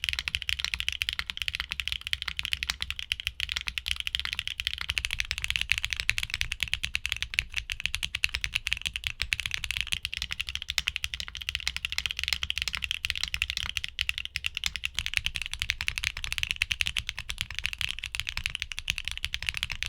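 Continuous fast typing on a mechanical keyboard fitted with HMX V2U switches, a dense stream of soft, bassy, subdued clacks heard up close at an even rhythm, with no speech.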